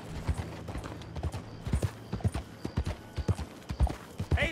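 Rhythmic clip-clop of horse hooves on hard ground in the video game Red Dead Redemption II, fairly close, with a faint whinny and background ambience.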